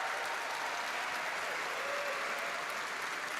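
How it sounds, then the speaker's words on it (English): A commencement audience claps in a steady, dense wash of applause that stays even and loud throughout, with no voices standing out. "Give them a round of applause, please."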